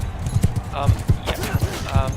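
Clip-clop of horse hooves in a video game, a steady run of close, loud hoofbeats with a brief whinny-like tone, heard under a voice talking.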